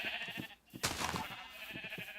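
Sheep bleating in the Minecraft video game, several short nasal bleats overlapping against a steady background hum, moderately loud and close, with no talking.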